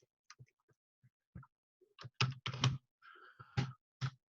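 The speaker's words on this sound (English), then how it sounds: "I'm sorry to make you watch me hunt and peck here." Hunt-and-peck typing on a computer keyboard: sparse, irregular key clicks up close, with hesitant pauses between single taps and a few quicker bursts, and no voices.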